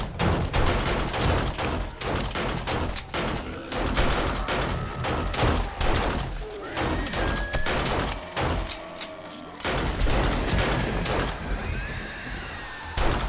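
Gunfire from the zombie survival game 7 Days to Die (Alpha 20, Darkness Falls mod) during a night horde: dense, repeated shots and impacts crackle through the whole stretch, loud and near, with scattered creature noises mixed in.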